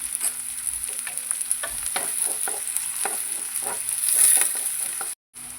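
Grated ginger and garlic fry with sliced onion in a pan for a soya chunk and rice flour masala, a steady sizzle broken by repeated spoon scrapes, then a brief cut to silence near the end.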